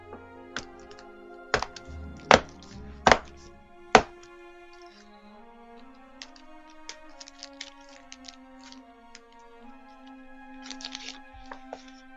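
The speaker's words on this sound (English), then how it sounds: "That's the sound of chocolate being broken up for easy consumption." Chocolate is snapped and broken into pieces near the mic: four sharp cracks in the first few seconds, then faint crinkles and small clicks over a quiet background tone.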